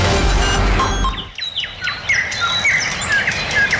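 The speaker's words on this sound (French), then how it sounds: "nous vous proposons de vous relaxer avec le chant des oiseaux" Recorded birdsong aired on a radio station during a broadcast outage: after a fading noisy segment, clear repeated chirps and whistled bird calls ring out fairly close and lively, with no talking over them.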